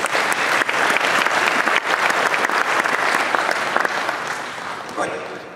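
Audience at FreedomFest breaks into sustained applause, a dense wash of many hands clapping loudly and evenly throughout, tapering slightly at the end.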